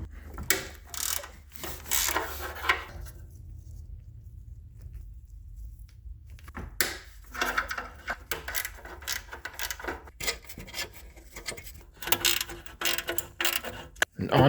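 A socket ratchet on a 6-point socket works loose the rusty 10mm catalytic converter bolts on a four-cylinder non-turbo Ford Focus, with bursts of quick clicking and metallic clatter split by a quiet gap in the middle.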